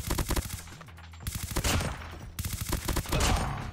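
An automatic Type 25 assault rifle fires in the mobile shooter Call of Duty: Mobile, with loud rapid bursts of gunfire broken by brief pauses.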